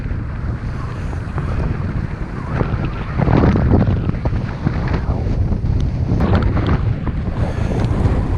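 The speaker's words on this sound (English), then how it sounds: "I'm not sure what point in this loop the wind will abate" Strong wind buffeting the microphone on a solo bike ride along the Lincolnshire coast and wolds, a loud, continuous rumbling roar with gusty surges throughout.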